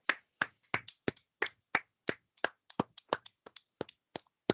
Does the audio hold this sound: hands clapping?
yes